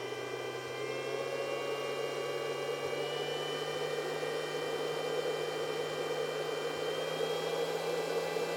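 A toy wind tunnel fan for diecast model cars runs at a steady, even whir with a low hum and a few thin high tones, quiet and unchanging throughout, with no talking.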